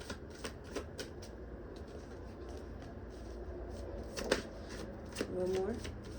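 An oracle card deck, Dreams of Gaia, is shuffled in quick, riffling bursts of papery flicks at close range, with a faint voice briefly present near the end.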